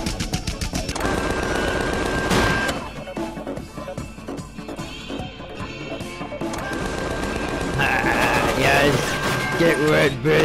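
Automatic gunfire from a loader bot in the Tales from the Borderlands game: dense, loud rattling bursts mixed with music and effects, while voices talk over it throughout.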